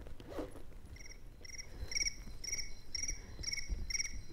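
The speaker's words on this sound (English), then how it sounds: "Crickets." Crickets chirping in regular pulsed trills, a steady rhythmic chorus repeating about twice a second over a faint background hum, with no voices.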